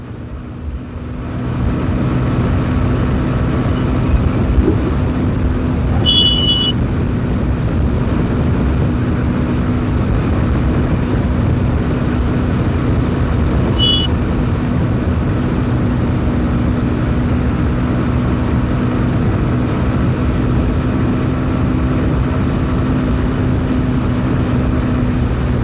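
A 200 motorcycle ridden fast on the open road between Nashik and a village gives a steady, close roar of engine and rushing wind that runs unbroken for the whole stretch, with no talking.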